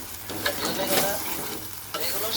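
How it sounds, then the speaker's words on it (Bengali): Fish frying and being stirred in a pan, a loud continuous sizzle with spatula scrapes and a sharp clatter of stirring near the middle and end. "আর একটু কষাই এই মাছটা"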